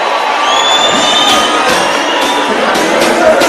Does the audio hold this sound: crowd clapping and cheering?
yes